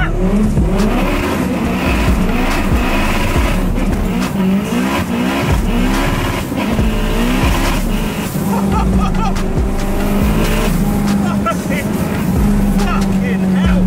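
Front-wheel-drive 840bhp Honda Jazz launching hard with wheel spin, engine screaming loud and close through rising gears while tires squeal, with people talking and shouting over it.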